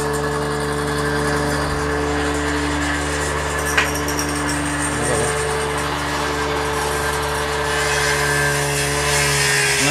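A workshop machine cuts teak (sagwan) wood for doors, giving a steady loud mechanical drone with a constant motor hum, one sharp knock near the middle, and no talking.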